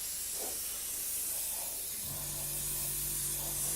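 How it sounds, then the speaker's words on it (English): Airbrush spraying hisses steadily and close, applying a light coat of paint to a model, a broad airy rush that continues without pause, joined by a low motor hum partway through. "we're just going to spray on a light"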